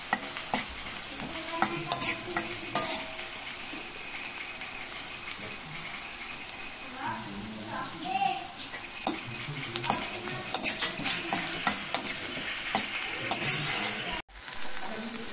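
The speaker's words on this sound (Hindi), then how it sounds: "हम अदरक लहसुन पेस्ट डाल देंगे।" Ginger garlic paste sizzling with onions in a pan while a utensil stirs and scrapes. A steady frying hiss runs under repeated clinks and scraping, close and moderately loud.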